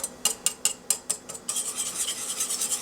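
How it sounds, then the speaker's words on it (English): A whisk beats eggs and flour together in a large mixing bowl, first with about eight distinct clinking strokes, then a fast continuous scraping swirl against the bowl. "and whisk them together."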